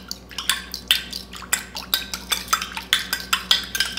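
A spoon clinks and scrapes rhythmically against a bowl while stirring a salted egg yolk mixture, with a quick, steady series of close, bright taps and no talking.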